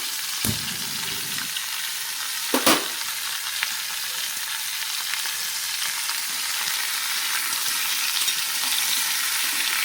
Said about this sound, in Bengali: সবজি ভালো করে ভাজা হলে ভালো টেস্ট হয়।